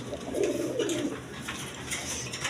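Large satin pigeons coo in low, soft bubbling calls nearby, a continuous gentle murmur over faint ambient noise.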